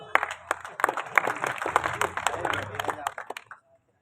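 Audience at a Hindi poetry gathering claps in a short, thin burst of applause that fades out after about three and a half seconds.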